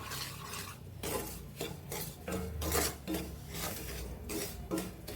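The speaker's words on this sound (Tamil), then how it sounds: "இன்னும் கொஞ்சம் லைட்டாக ரோஸ்ட் பண்ணிக்குவோம்" Laddu mixture for Diwali sweets is roasted lightly in a pan while being stirred, giving repeated soft scraping and rasping strokes in a steady rhythm, fairly quiet and close, without speech.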